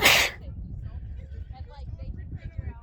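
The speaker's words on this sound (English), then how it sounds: "Man, I gotta sneeze." One sharp, loud sneeze bursts out up close in open desert at Death Valley's Devil's Golf Course, followed by quiet breathing and low wind rumble.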